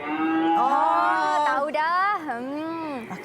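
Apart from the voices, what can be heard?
cow mooing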